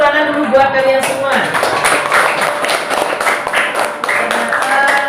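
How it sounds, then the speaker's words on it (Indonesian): Students in a classroom applaud, a scattered burst of clapping under an ongoing teacher's voice. "Tepuk tangan dulu buat kalian semua."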